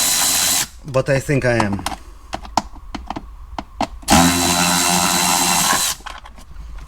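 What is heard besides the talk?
ratchet undoing a bolt on Mercedes CLK dashboard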